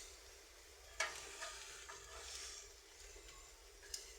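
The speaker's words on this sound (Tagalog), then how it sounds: "ngayon ay mag-iihaw ng tamban. Pero wala po to sa uling ha. Nasa kalan po to." Tamban fish grilling on a gas stove rather than charcoal: a steady, faint sizzle and frying hiss with a few soft clicks and taps of cookware, no voices.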